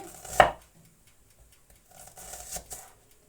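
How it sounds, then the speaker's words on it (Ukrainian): A knife slices an onion into thin half-rings on a board, one sharp chop up close followed after a pause by a few softer cutting taps. "І я буду нарізати ось такими півкільцями, бажано тоненькими"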